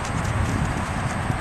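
A walking horse's hooves clip-clop steadily at close range in an even rhythm, with a faint broadband background.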